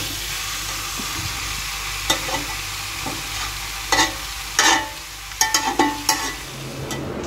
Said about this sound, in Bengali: তো এই যে মাংসটা কষাতে বসিয়ে দিয়েছি